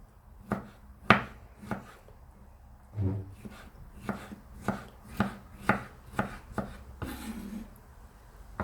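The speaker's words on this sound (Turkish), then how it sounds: "Bu şekilde küçük küçük doğrayacağım" A knife chops vegetables small on a cutting board, about a dozen evenly spaced soft thuds, close but fairly quiet.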